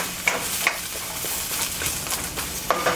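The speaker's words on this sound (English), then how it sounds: "I'm going to add the sweet peppers now." Sweet peppers go into a frying pan of noodles, with a steady close sizzle of frying and a few sharp clicks and scrapes of stirring throughout.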